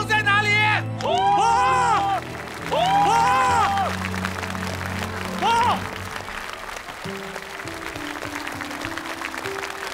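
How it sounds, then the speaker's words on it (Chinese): Audience applause and crowd noise at a combat-sports competition show, a steady wash of clapping under bright musical tones and brief swells of cheering, with no clear speech. "掌声在哪里？"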